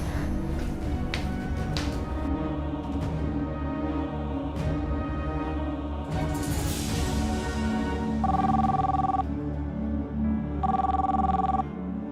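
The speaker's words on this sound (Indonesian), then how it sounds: "Bi Asri, angkat telepon cepetan." A telephone rings in a domestic drama scene, two bursts of ringing heard over continuous background music.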